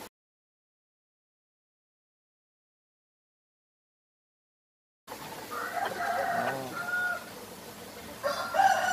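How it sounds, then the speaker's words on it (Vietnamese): A coop of young chickens on a farm in Chợ Lách, Vietnam, clucking and crowing in a busy flock that starts abruptly after about five seconds of silence and continues at moderate volume. "đây là chuồng gà tơ của chú Tư Gương"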